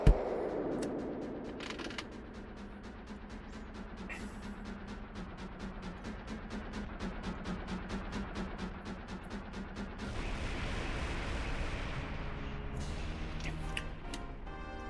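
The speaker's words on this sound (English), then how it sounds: "I just heard it dropping bombs." Rapid, regular series of ticking blasts as a boss drops bombs in Zelda: Majora's Mask, a rattling train of sharp pops with a louder burst at the start and a denser roar near the end.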